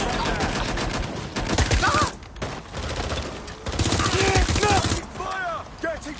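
Rapid bursts of automatic gunfire in the video game Watch Dogs Legion, loud and dense, with brief lulls between volleys and game voices heard over the shooting.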